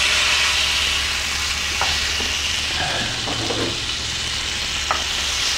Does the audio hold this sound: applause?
no